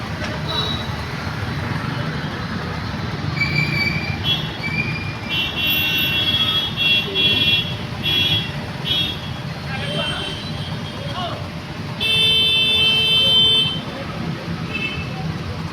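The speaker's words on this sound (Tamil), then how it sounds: "ரொம்ப டிராஃபிக்கு." Heavy road traffic in Chennai, with a dense, steady rumble of buses, trucks and cars close by and several horn toots breaking through in short bursts.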